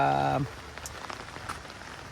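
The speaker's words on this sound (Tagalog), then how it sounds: "nako, umuulan, ilang araw nang umuulan" Steady light rain patters on surfaces outdoors, soft and scattered drops after a brief voice-like tone at the start.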